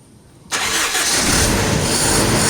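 A Toyota Tamaraw FX engine, freshly refreshed, cranks and catches half a second in, then settles into a loud, steady rough idle close by.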